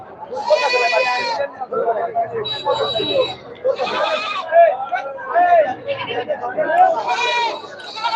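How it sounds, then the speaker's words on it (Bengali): Goats bleat repeatedly at a busy Sunday goat market, loud, close calls rising over a steady hum of crowd chatter and someone talking nearby. "দেখেন খালি ছাগল আর ছাগল"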